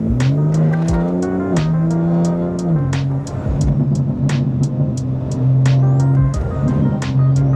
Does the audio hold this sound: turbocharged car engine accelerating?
yes